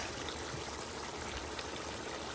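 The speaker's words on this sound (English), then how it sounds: "I'm going to add some other water to cook." Water pours steadily into a pot of curry stew chicken on the stove, a continuous close rushing and splashing hiss with no talk.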